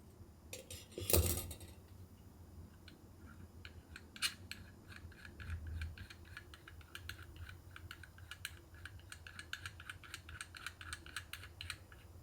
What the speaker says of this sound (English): I take the world's worst scissors and give myself some leverage.